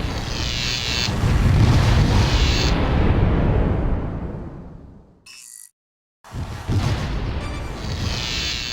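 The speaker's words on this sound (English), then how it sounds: "We destroy the small spaceport on their final colony." A spaceport on a final colony blown apart in the strategy game Distant Worlds, a loud, rolling explosive roar that swells and slowly fades, cuts to silence briefly, then another blast-like rumble returns.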